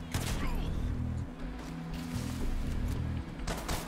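Rapid gunfire bursts crack repeatedly in the violent shooter game Hatred, layered over a low droning background with a few sharp impacts, while people talk over the action.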